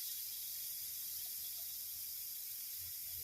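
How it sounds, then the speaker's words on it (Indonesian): Chicken stir-frying in a wok for fried rice, a steady faint sizzling hiss running evenly throughout with no distinct clatter or voices. "Kita oseng-oseng ini selama 1-2 menit saja ya, 1-2 menit supaya tekstur ayam ini kering tapi dagingnya empuk."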